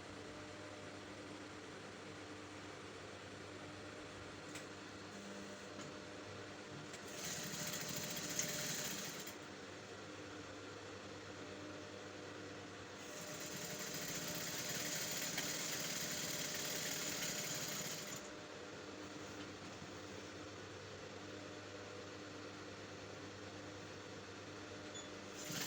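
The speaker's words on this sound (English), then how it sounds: "I'm going to go ahead and stitch it across the sleeve." A sewing machine stitches across a sleeve facing in two separate bursts of steady motor whir, each several seconds long, over a quiet room hum, fairly faint and close.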